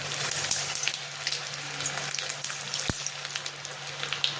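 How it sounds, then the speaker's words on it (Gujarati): Methi bajra vadas coated with sesame seeds sizzle in hot oil, a dense steady crackle with scattered sharp pops and one brief knock. "તો તેલ ગરમ થઈ ગયું છે, આપણે વડાને તળી લઈશું"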